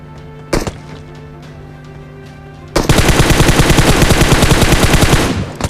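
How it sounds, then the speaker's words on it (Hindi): SKS rifle gunfire in the PUBG Mobile video game: a single loud shot, then after a pause a rapid, sustained burst of close, sharp reports lasting about three seconds. "एक बंदा मेरे को इस खिड़की में से SKS फायर करता है"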